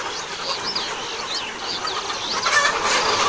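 Hens on a layer farm cluck and chirp steadily throughout, a dense flock chorus with some wing flapping, fairly close and continuous with no talking.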